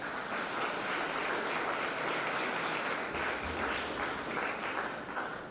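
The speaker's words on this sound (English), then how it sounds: "Please welcome our jury members and guests with a big round of applause." A big round of applause from the audience welcoming the jury members and guests at the Youngpreneurs 2022 event: dense, steady clapping from a crowd that holds evenly throughout without a break.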